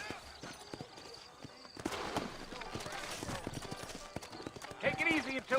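Hooves clip-clop steadily from horses in a Red Dead Redemption-style western game set in New Austin, a rhythmic trot running under game dialogue and ambient sound, with a louder burst near the end.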